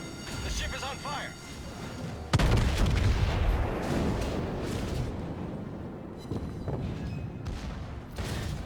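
Heavy naval gunfire from a battleship's rear turret in World of Warships: a sharp booming salvo with a long rumbling tail that fades, followed by more distant thuds, while a voice speaks throughout.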